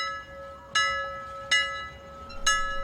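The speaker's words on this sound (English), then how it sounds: "There's the bell." A school bell chimes three times at even intervals, each bright ringing strike fading under a steady tone in a quiet classroom setting in Japan.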